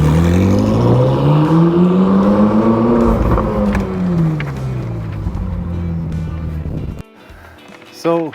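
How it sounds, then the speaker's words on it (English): A car drives up a driveway, its engine close and loud with rising and falling pitch as it moves, then cuts off near the end as a voice briefly talks. "We just did the drive up on the driveway just for dramatic effect."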